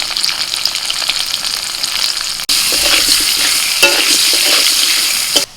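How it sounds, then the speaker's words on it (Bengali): Potatoes frying with salt and turmeric in oil, a loud dense sizzle that cuts out briefly then resumes stronger, with stirring scrapes and occasional pops, no talk. "এবার আলুগুলো ভেজে নেব আলুর মধ্যে দিচ্ছি লবণ আর হলুদ"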